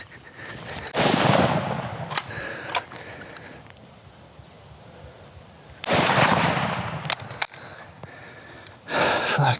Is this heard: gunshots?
yes